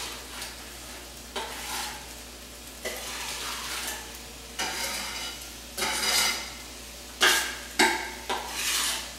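Onions frying in a pan for a Tuscan bean soup, a steady sizzle broken by periodic stirring scrapes and clanks that grow louder toward the end, close by, with no speech.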